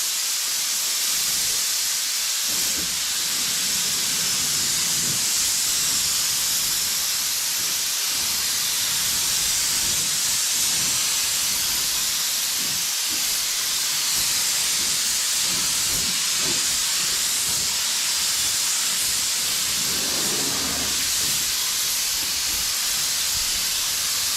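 Spray gun applying paint to an OBS Chevy truck at about 30 psi, giving a loud, steady, unbroken hiss throughout.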